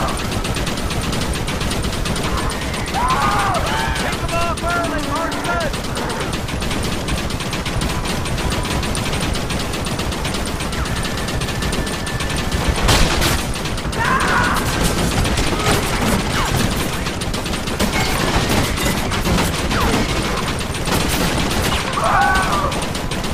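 Machine gun fire in Red Dead Redemption: a continuous dense rattle of rapid automatic shots throughout, with occasional louder bursts and crashes layered over a busy game soundscape.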